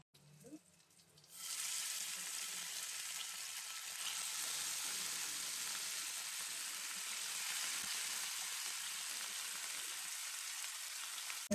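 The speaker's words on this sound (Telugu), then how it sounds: "ఇలా తక్కువ ఆయిల్లో మనం ఇలా ఫ్రై చేసుకుని తీసుకుంటే క్రిస్పీగా వస్తాయి చేపలు ఫ్రై." A pan of fish fries in a little oil with a loud, even sizzle that starts abruptly and holds steady throughout, with faint kitchen sounds beneath.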